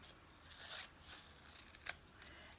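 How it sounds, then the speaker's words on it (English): Scissors trim paper for a house journal page, giving a few quiet snips with a sharper click near the end, faint and up close, with no talking. "it's a little bit too long, so I will trim it."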